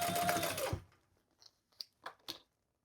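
Sewing machine basting the gusset of a crossbody bag: a dense, steady mechanical stitching run for under a second, then stopping, followed by a few faint scattered clicks and handling noises.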